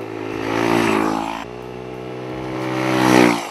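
A Kymco K-XCT Sport 125 scooter engine with a throaty aftermarket exhaust revs up twice, rising and falling in pitch with a raspy, aggressive growl, close by.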